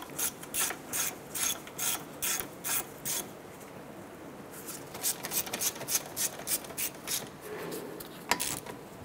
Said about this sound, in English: Get those bolts started. Go ahead and get these snugged down.